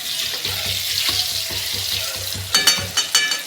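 Fish curry masala fries in hot oil with a close, bubbling sizzle and low, rhythmic sputtering. Louder splashy bursts near the end sound like water being added.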